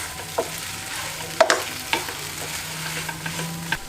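Lightly crushed peas and grated potato stirred and fried together in a pan, with soft scraping and spoon clinks at irregular intervals over a low, steady sizzle, close by and moderately quiet.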